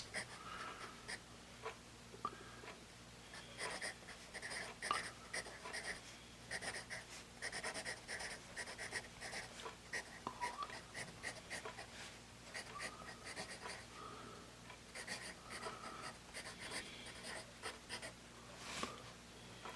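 An HB graphite pencil scratches across paper in quick, continuous strokes, faint and close, with soft scribbling rhythm throughout.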